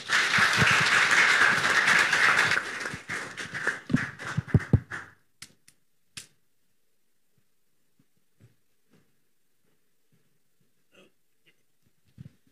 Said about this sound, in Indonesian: Beri tepuk tangan dulu, saudara.